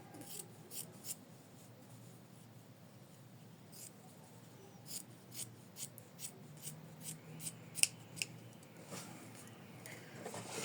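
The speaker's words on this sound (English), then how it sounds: "we trim it like that near the seam allowance" Scissors trimming embroidered fabric near the seam allowance, a series of soft crisp snips at an irregular pace, close but faint over a quiet background with no talking.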